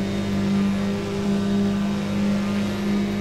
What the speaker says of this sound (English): I could recognize the exhaust sound.